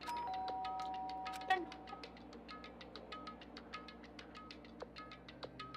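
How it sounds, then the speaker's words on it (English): A doorbell in the video game Danganronpa chimes once as a clear tone, followed by a quiet stretch of soft, repeated game music notes. "stood in front of her door, not making a sound, and pressed the doorbell"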